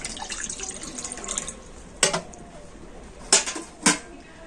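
Water trickles in a wok on a stove while a metal food stand is set in over it, with a few sharp metallic clanks standing out above the running-water noise.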